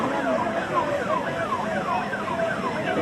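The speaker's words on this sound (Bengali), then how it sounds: "একটা অ্যাম্বুলেন্স দেখতে পাচ্ছি" An ambulance siren wails continuously in a steady rising-and-falling pattern, moderately loud amid road traffic during an outdoor political rally, with faint voices underneath.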